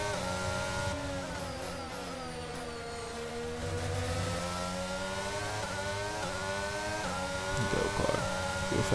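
A Formula 1 race car from F1 22 screams steadily through its gears, the engine pitch climbing and dropping with each shift across a long, loud, unbroken stretch with no voices.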